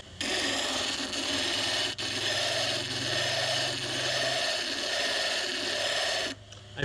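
A cup is beveled against a spinning HighTech Diamond lapping wheel, giving a steady close grinding rasp with a faint motor hum that holds for several seconds, briefly dips once, then stops near the end.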